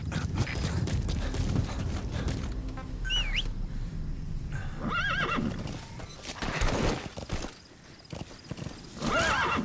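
In Metal Gear Solid V, hooves clip-clop steadily over rough ground as a horse whinnies several times, high and wavering, amid rustling and clattering movement close by.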